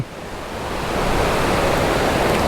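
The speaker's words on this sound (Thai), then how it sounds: "น้ำตกด้านหน้านู่น นะ แล้วก็ น้ำไหลผ่านสองฝั่งเลย" A waterfall near a bamboo hut at Doi Inthanon, Chiang Mai, with water flowing past on both sides, a steady broad rushing roar that swells after the first moment and holds constant, with no voices.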